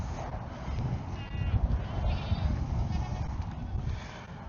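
Goats bleat repeatedly over a steady low rumble of wind or handling noise, the calls close and overlapping, on a farm.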